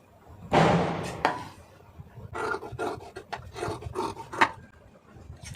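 Blouse sleeve fabric being cut with scissors, giving close rasping snips and crunches, one strong cut followed by a series of shorter irregular snips.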